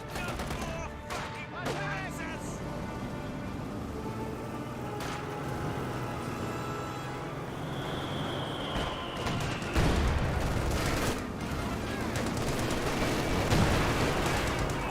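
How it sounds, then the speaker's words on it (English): Sustained rifle squad and captain gunfire in the Company of Heroes 2 strategy game, a dense battle din of overlapping shots with louder bursts toward the end, continuous throughout. "Got the rifle squad and captain firing away."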